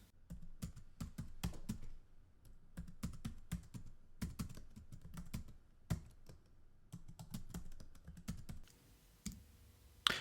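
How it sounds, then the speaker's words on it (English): A computer keyboard is typed on in quick bursts of crisp keystrokes, broken by brief pauses. The sound is close and moderately quiet. "And let's type the statement."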